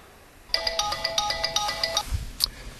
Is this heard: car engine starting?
no